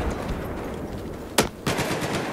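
Gunfire in the video game Battlefield 4 comes as a dense rattling volley, broken by one sharp loud shot near the middle before the volley resumes. No one speaks.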